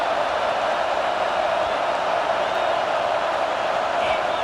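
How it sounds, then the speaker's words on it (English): Steady, dense roar of a stadium crowd in EA Sports College Football 26 during a third-down defensive stand, a loud continuous wash of noise with no breaks for the full stretch. "Decibels rising as the crowd gets behind this defense on third down."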